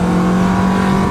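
A 2015 Kawasaki Vulcan S cruiser motorcycle engine hums steadily and loudly at a constant pitch, idling along with no throttle or clutch input, and no voices over it.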